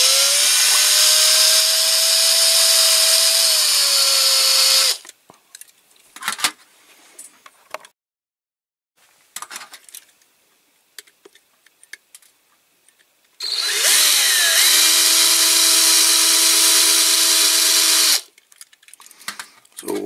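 A power drill whines steadily for about five seconds drilling out rivets on a Corgi Toys die-cast Jeep, then clinks and handling noises, then a second longer drilling burst before stopping.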